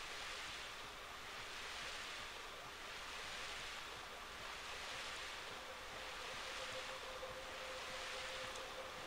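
A paper boat in Paper Mario: The Thousand-Year Door glides over water, a steady wash of waves and surf that gently rises and falls, with a faint wind-like hiss throughout.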